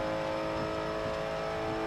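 A race car accelerates hard at Spa in the video game Forza Motorsport 7, its engine a steady, loud, high droning whine sustained without a break.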